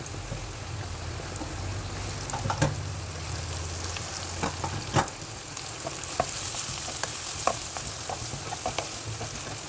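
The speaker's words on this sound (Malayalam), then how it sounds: "അതിലോട്ട് വെളുത്തുള്ളി, സവാള ഇതെല്ലാം ചേർത്ത് നന്നായി വഴറ്റി കൊടുക്കാം." Garlic and onion sauté in sunflower oil, a continuous close frying hiss like light rain, dotted with sharp clicks and knocks from a stirring utensil.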